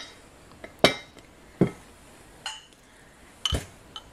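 Clear glass mugs clink as they are handled, giving four or five sharp, separate glassy knocks spaced across a few seconds in a quiet room.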